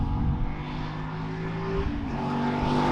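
A manual, rear-wheel-drive Dodge Viper race car runs on a track with no traction control. A steady engine note rises and falls in pitch as it passes at a moderate distance, with no talking.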